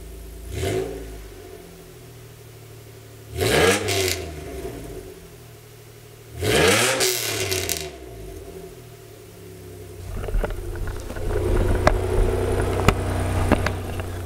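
A raspy Toyota pickup engine (a Wheeler) idling with three sharp revs in a row, each rising and falling, then settling into a rough, rumbling idle close by.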